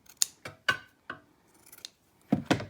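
Scissors snipping paper for a junk journal, a handful of short crisp cuts spaced apart in a quiet room, with a quick double snip at the end, close and clear.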